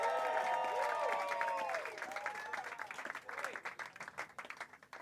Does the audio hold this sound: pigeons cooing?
no